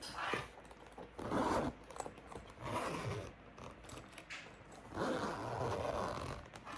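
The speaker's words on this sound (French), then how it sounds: "maintenant que l'on a fixé cette partie-là, on va ouvrir le zip" A zipper is drawn open in several short rasping pulls along a handmade fabric bag, close but quiet, with brief pauses between strokes.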